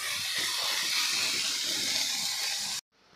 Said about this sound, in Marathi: आता हे टोमॅटो गळेपर्यंत आपण परतून घेऊ।